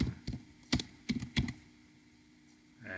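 Typing on a computer keyboard in a short, quiet burst of uneven key clicks that come in small clusters, then a pause and a faint sound at the end, with no talking.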